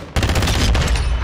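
A burst of gunfire in the Call of Duty video game, several rapid loud shots starting abruptly and firing in quick succession close up, ending in a headshot.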